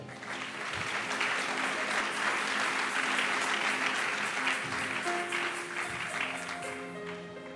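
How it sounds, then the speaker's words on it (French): A crowd at a sermon on imprecatory prayers applauds loudly and steadily, a dense wash of clapping that holds for several seconds without pause. "Acclame très fort."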